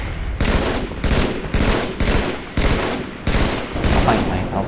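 Rapid bursts of gunfire in the video game Halo 3, sniper rifle among them, fire in a loud repeating rhythm of shots about every half second throughout.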